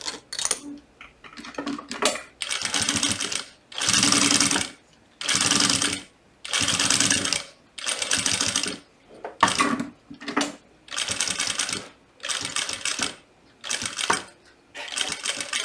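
A sewing machine stitches a butterfly-shaped fabric pouch in a string of rapid mechanical runs, each lasting a second or two, separated by short pauses, then finishes with a short backstitch, close and clear.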